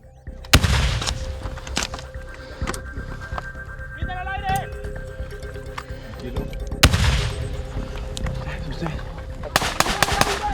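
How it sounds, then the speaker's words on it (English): 40mm grenades go off during military training, several sharp blasts spread over the scene amid outdoor background noise and shouted voices. "They have to learn to launch weapons like these 40mm grenades to blow up rooms."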